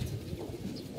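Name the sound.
pigeon cooing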